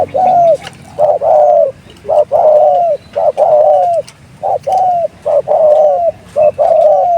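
Birds coo repeatedly in short rhythmic bursts, loud and close, with brief pauses between calls and no talking.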